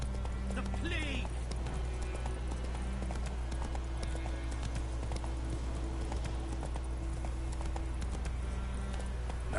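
Roach, a horse in the video game The Witcher 3, galloping with rapid, continuous hoof clip-clops over steady game ambience, while a voice speaks briefly.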